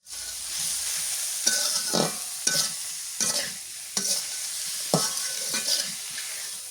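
Radish greens fried and stirred in a pan, with a continuous hiss broken by about eight sharp scrapes and knocks of the spatula against the metal at uneven intervals, close and fairly loud.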